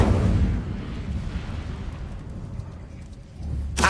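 Incendio fire spell cast in the video game Hogwarts Legacy, a dense fiery burst that rumbles loudly and then tapers off, with a second sharp flare at the end.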